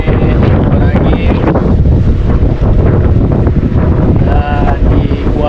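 Strong wind roars and buffets across open water during a boat trip in stormy weather, loud and constant, with a brief voice under the gusts.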